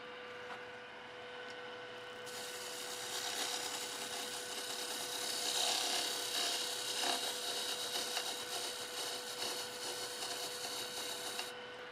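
A wood lathe turns a peppermill while a D-way tool cuts a bead, giving a steady, continuous scraping hiss over a faint motor hum, fairly quiet and with no voices.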